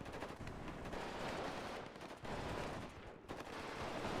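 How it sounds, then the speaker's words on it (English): Heavy machine gun fire from an Avenger vehicle in the real-time strategy game Warno, a continuous rattling stream of rapid shots with brief breaks, somewhat distant and fairly faint under a dense battle background. "the Avenger here, with these heavy machine guns, as you'll see, they'll start doing a lot of damage to my Sapuri here."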